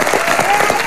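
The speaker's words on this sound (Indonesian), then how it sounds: "Putri tepuk tangan dulu dong buat mereka kedua." An audience in a game show studio breaks into a dense patter of applause, a steady wash of many hands clapping with crowd noise mixed in.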